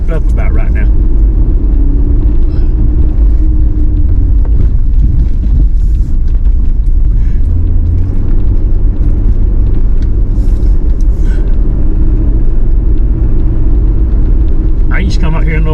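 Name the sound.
Ford Explorer (Mercury Mountaineer) driving up steep mountain road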